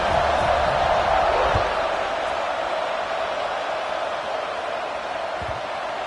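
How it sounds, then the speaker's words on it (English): A college football stadium crowd hums in a broad, steady roar after a score, loud at first and easing slightly, with a faint thump early on. "this crowd is buzzing after that last score"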